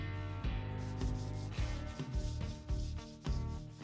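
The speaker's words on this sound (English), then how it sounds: "went over it by hand with 180 grit sandpaper just to smooth everything out" 180 grit sandpaper rubbed by hand along the edge of a wooden baseboard makes close, rhythmic scratchy strokes, roughly one back-and-forth pass every half second, alone and fairly quiet.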